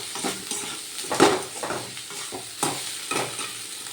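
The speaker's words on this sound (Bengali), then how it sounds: "এবার সব মশলাগুলো ভালো করে কষিয়ে নেব।" Spices with turmeric and cumin powder being sautéed in a pan for a fig kofta curry, a spoon scraping the pan in uneven strokes over a soft sizzle, close and clear.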